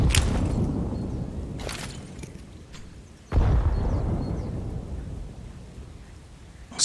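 An HE grenade goes off in Counter-Strike: Global Offensive during the NRG versus Avangar pro match, a sudden deep boom that rolls into a long rumble, with further rumbling blasts around it.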